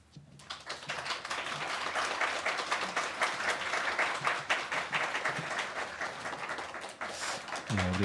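A church congregation at a deacon appointment ceremony in a Seoul Baptist church breaks into sustained applause, a dense, steady wash of clapping that holds for about eight seconds before tapering off at the end.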